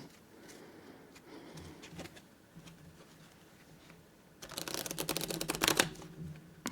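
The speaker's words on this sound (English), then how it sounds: "Let's do one more shuffle and then we'll play our last game of Monte Carlo." A flurry of rapid, crisp riffling and snapping of playing cards in the second half, after a quieter stretch of soft handling noises.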